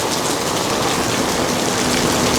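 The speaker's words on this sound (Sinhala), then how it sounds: "ඒ වුණාට ඉතින් පොඩ්ඩක් වහින්න ගත්තා." Light rain falls on a street near a shop in Phuket Old Town, a steady, dense hiss of drops on surfaces that continues evenly throughout, close and fairly loud, with no speech.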